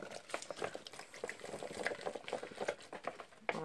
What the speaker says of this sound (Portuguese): Vou botar um pouco de água dentro pra aproveitar o que tá aqui